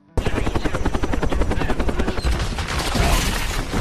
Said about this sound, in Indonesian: Helikopter pun tiba melancarkan serangan udara.